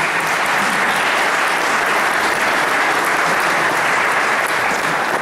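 A church congregation at a missionary Sunday service applauds a guest speaker, producing loud, continuous, dense clapping that holds steady for around five seconds without any talk.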